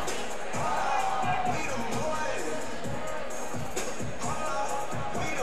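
A cage-fight crowd cheers and roars during a fighter's walkout to music, a dense, loud, continuous wash of voices with a commentator talking over it.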